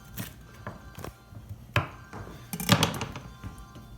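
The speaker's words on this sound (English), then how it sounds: "And I'm gonna take the core out." Knife knocking on a cutting board as the core is cut out of a cauliflower, several close, separate chops and thuds spaced irregularly, with no one talking.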